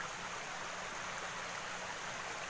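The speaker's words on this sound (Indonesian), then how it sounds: "air mengalir sangat jernih" Clear water flows in a stream outdoors, making a faint, steady rushing babble that continues evenly with no voices.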